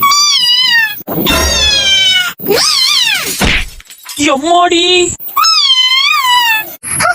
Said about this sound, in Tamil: அது அந்த எதிர்த்த வீட்டுக்கார பூனை மேடம்.